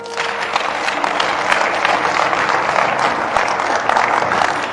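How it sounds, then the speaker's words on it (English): A church congregation claps together during a sermon, a loud continuous wash of many hands with some crowd noise mixed in, holding steady throughout. "Clap your hands."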